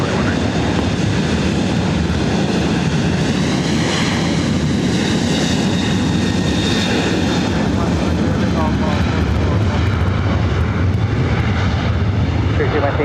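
Airplane at LAX airport, a loud continuous engine roar that swells and holds steady throughout, close and broadband, with a voice faintly talking underneath.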